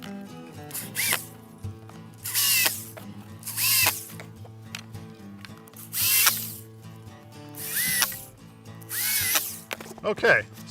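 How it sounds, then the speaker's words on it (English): Electric screwdriver driving screws into a downhill dragster frame, several short whirring bursts about every two seconds over a steady background hum, with quieter rattling between them. "I'm going to use an electric screwdriver"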